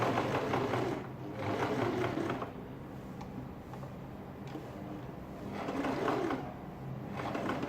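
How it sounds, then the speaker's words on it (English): A sewing machine completes a seam on a ladies' shirt dress, running in two or three steady, close bursts with a pause for the turn at the corner. "I'll make my turn and I'll come back this way to complete my sewing."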